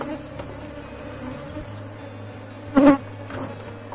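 A swarm of bees buzzes steadily in a divided hive, a low continuous drone with one brief louder burst as a bee passes close.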